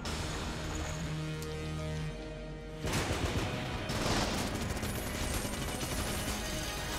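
An airstrike in the video game Enter the Gungeon lands as a sudden dense barrage of booming, crackling explosions that keeps rumbling loudly after a quieter stretch of game sound.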